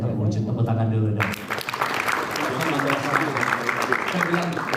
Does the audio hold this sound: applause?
yes